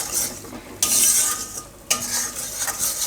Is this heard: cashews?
yes